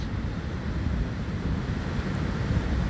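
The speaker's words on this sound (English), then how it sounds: "here you could really hear the waves just because of the way they're breaking" Ocean waves break on a beach, a steady, close roar of surf mixed with wind noise that stays loud and even throughout, with no voices.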